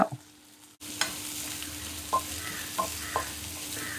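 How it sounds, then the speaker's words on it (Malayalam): Onion frying in a pan with ginger, garlic and curry leaves for a sardine dish, a steady close sizzle broken by a few soft scrapes of a spoon stirring. "ഇഞ്ചിയും വെളുത്തുള്ളിയൊക്കെ ഒന്ന് വാടിയപ്പം ഇതാ സവോള എടുത്തിട്ട് കൊടുത്തു. കുറച്ച് കറിവേപ്പില"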